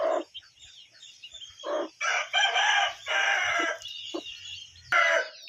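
Chickens in a coop with newly hatched chicks cluck and squawk nearby in irregular loud bursts, with brief quiet gaps between calls and no talking.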